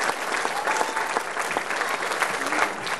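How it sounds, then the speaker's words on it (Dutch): A carnival concert crowd applauds loudly and steadily for a performer, dense clapping filling the whole moment with a faint murmur of voices mixed in. "Dames en heren, applaus voor Giel."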